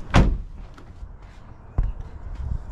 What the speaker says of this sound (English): close that door and I'll close this one